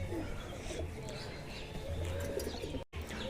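A young pigeon sits in front of its coop on a rooftop, cooing and chirping softly among other birds, while a person calls to it repeatedly under steady background noise.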